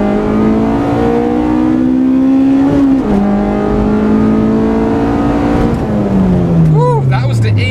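A 90s Honda Civic engine revs loud and close as it pulls hard in first gear, climbing steadily through the revs, with a brief dip at each gear change and a rising whine.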